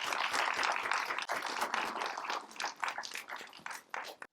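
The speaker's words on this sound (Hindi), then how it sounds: "तालियों के साथ हम स्वागत करते हैं।" An audience applauds at a Brahma Kumaris Raksha Bandhan poetry gathering as a poet is welcomed, a dense steady clapping that thins into scattered claps toward the end.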